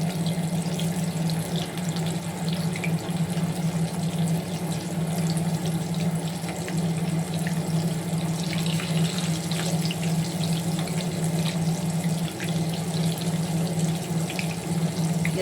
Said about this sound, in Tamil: இந்த மீனை நம்ம பொரிப்போம். மீனை வந்து நம்ம இந்த எண்ணெயில் போடும்.